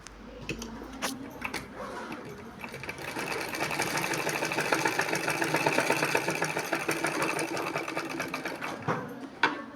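A sewing machine runs close up, stitching darts into blouse fabric in one continuous whirring, rattling run of several seconds, preceded and followed by a few mechanical clicks.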